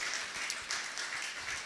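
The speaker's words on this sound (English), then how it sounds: "Come on, give Him a round of applause." Church congregation applauding during a service, a short, steady wash of many hands clapping at moderate distance, without talk over it.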